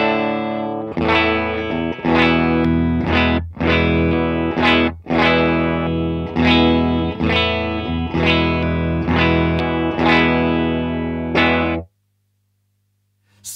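Les Paul electric guitar played through distortion and effects, strummed chords ringing in a steady rhythm with short breaks as the pickup selector flips between bridge, middle and neck positions, loud and close, ending in abrupt silence.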